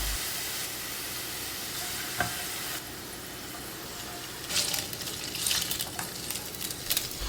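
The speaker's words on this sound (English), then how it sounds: "to a pan, I'll add some olive oil, chopped garlic, dry red chilies, basil leaves, some oregano and red chili flakes" Olive oil with chopped garlic, dry red chilies, basil leaves, oregano and red chili flakes sizzles steadily in a pan, a constant close frying hiss broken by a brief stir and bursts of louder crackle near the end.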